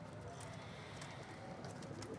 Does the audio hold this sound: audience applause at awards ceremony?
no